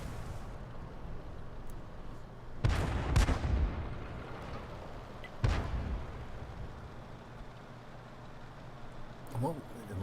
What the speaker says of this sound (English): I think that was artillery.